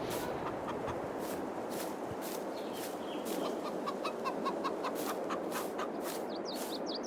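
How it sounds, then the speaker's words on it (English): Chickens and a rooster cluck on a farm in Farming Simulator 22, with repeated short clucks and chirps over a steady dense ambient bed for several seconds. "Whoa, that crazy rooster"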